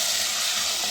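Crushed red chilli and crushed coriander frying in a pan while cooking chana dal with bitter gourd, giving a close, steady sizzle with a brief stir near the end.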